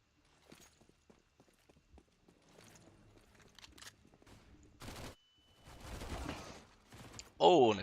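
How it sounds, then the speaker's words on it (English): Gunfire in the video game CS:GO during a Wingman tournament match, a scatter of sharp shots and footsteps that builds toward louder bursts near the end, with speech mixed in. "Oh, and a quick shot from Nolix."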